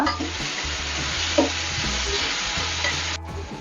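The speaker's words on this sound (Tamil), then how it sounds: "கொஞ்சமாக நம்ம வெங்காயம் போட்டு வெங்காயம் வதக்கட்டும் நல்லா" Onions sautéing with salt in a pan for homemade prawn gravy, a steady broadband sizzle heard close and continuous, with a few light stirring scrapes and no voices.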